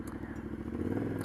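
Yamaha Ténéré 700 (T7) motorcycle engine chugging at low revs in a rock garden, a steady deep throb with clattering and scraping of tyres over rocks, continuous and close throughout.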